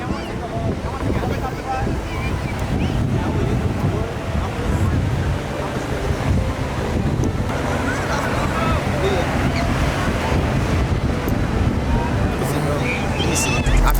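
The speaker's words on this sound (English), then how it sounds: "We got the ocean." Ocean surf rolls steadily onto the beach at Atlantic City, a continuous wash of waves heavily buffeted by wind noise on the microphone.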